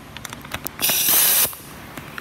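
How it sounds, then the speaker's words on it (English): A single burst of aerosol foam sprayed onto a 2009 Ford Focus Estate windscreen hisses for about half a second, loud and close, between quiet clicks and handling noises. "we're going to just spray some of our foam on there"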